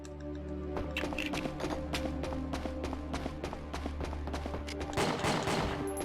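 Rapid bursts of gunfire from the video game Winback: Covert Operations, loud and close with repeated shots over a steady game soundtrack, peaking in a dense volley near the end.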